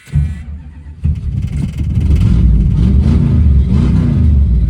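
A 1979 Chrysler 300 with a freshly rebuilt Thermoquad carburetor cranks and catches, then its engine revs up into a loud, steady, rumbling roar close by, with clattery mechanical undertones.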